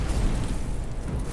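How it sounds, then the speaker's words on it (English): A dense, rumbling burst of rocket launch explosions in the game Skyforge, loud and continuous through the short moment. "I'm gonna launch all these rockets"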